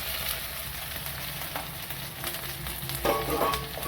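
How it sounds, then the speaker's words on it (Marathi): Dry grated coconut being roasted in a pan with chilies and garlic for a Maharashtrian dish, a soft continuous sizzle and crackle with occasional scraping stirs, close and fairly quiet. "सुक्कं खोबरं पण लाल परतून द्यायचं चांगलं"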